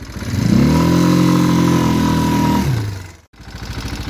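A heavy tracked vehicle engine, a Kuba Viptrack 250 pulling away on a ramp, roars loudly at full throttle with a steady droning pitch, then drops off abruptly before rumbling back.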